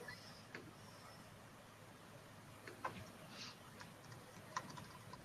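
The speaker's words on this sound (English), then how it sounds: "She must be typing." Faint typing on a computer keyboard in a quiet room, sparse soft key clicks spread irregularly over a low background hiss, distant and barely above the noise.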